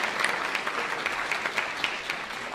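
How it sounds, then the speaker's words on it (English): A crowd applauds at a live Q&A event, a steady, fairly close round of many hands clapping with a few sharper claps standing out, with no talk over it. "A round of applause for them, because I appreciate it."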